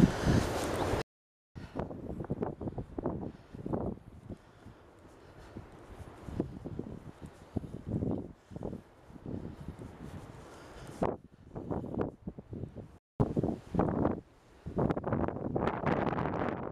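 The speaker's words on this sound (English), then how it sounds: "Probably because wind is not so strong, that's why it's warmer." Gusty wind buffets the microphone on a coastal trail at the Mull of Galloway in Scotland, coming in irregular rumbling bursts broken by a few brief silent gaps.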